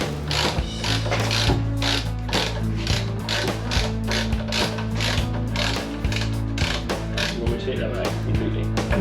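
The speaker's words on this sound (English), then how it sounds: "then you can get this centre nut undone" A ratchet clicks in quick repeated bursts while loosening the centre nut on a motorcycle front wheel spindle, sharp close metallic pawl ticks over a low steady background hum.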